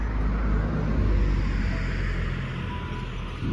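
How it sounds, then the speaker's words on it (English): A car passes on a residential street beside a Halloween yard display: a steady, loud road rumble and tire hiss that stays strong and then eases slightly as the vehicle goes by, with no voices. "there was no cars until I came out here to film"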